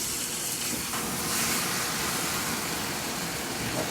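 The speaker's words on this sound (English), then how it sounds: "That nice sizzling sound is what we want." Spicy Sichuan stir-fried potatoes sizzle in a hot wok, a steady broadband hiss with faint scraping as they are moved around, close and continuous with no talking.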